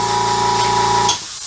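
An airbrush sprays camouflage paint onto a WW2 German Sd.Kfz.251 scale model, a close steady hiss with a faint tonal hum that cuts off abruptly near the end.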